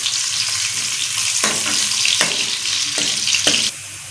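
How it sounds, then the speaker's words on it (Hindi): Chopped onion fries in hot ghee for a highway-hotel style mixed dal, a loud, dense sizzle with occasional stirring scrapes, close and continuous until it eases off at the end. "ये हमने चॉप किया हुआ एक प्याज डाल देंगे, इसको हल्का सा ब्राउन कर लेंगे"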